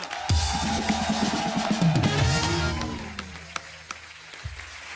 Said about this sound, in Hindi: The one and only Aruna Irani ji. के लिए जोरदार तालियां।